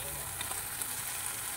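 Chopped tomatoes going into mustard masala frying in oil in a pan, a steady close sizzle with faint crackles, briefly heard.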